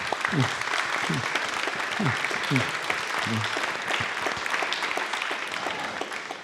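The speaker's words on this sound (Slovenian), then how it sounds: "Aplavz." Audience applause at a live evening talk show held in the Maribor puppet theatre: a steady, dense wash of clapping that carries through the whole stretch, with voices faintly underneath.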